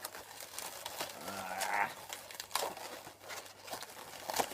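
Squeaky rubber twisting of a long balloon being shaped into an Oswald the Lucky Rabbit balloon animal: close crinkly rubs and short high squeals in irregular bursts, a faint low hum behind.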